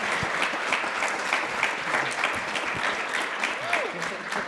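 An audience gives the panelists of a creative-life panel discussion a hearty round of applause, with dense, sustained clapping from a full crowd, steady and moderately loud across the whole stretch with no talk over it.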